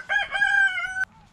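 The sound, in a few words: chicken in a henhouse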